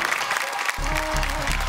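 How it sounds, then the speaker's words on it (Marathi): At a Marathi television game show, an audience applauds loudly, with steady dense clapping and a low musical hum rising under it midway. "जोरदार टाळ्या होऊन जाऊ दे."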